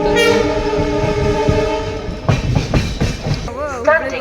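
A train horn blares in a long sustained blast at Hubli railway station, followed by rumbling and clattering of the train, with a voice briefly audible near the end.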